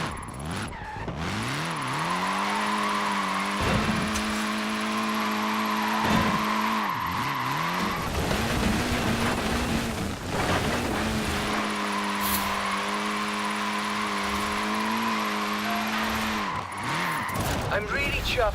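Cars in Forza Horizon 4 drift with a loud, continuous engine whine and sustained screeching tyre skids, the revs rising and falling through long slides, with brief breaks between runs.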